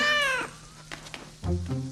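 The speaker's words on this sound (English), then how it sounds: "Caillou loved his new kitten very much." A kitten in a children's cartoon gives two clear, loud meows, a long high wavering one and a shorter one after a brief pause, with faint clicks in between.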